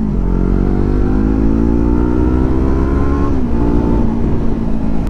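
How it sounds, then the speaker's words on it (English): A loud 2020 Yamaha R3 motorcycle with an Akrapovic race exhaust revs up with a rising, rasping exhaust note, eases briefly, then climbs again, close and continuous. "With the Akrapovic race exhaust. It sounds even better"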